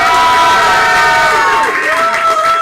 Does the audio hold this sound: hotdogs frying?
no